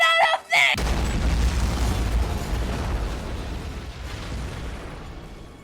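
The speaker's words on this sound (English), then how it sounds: "Edath got interrupted by the sudden explosion from their bunker, throwing her and Lael to the ground" A bunker explodes in a dramatized scene: a brief shout, then a sudden loud boom that rolls into a long rumbling, crackling decay.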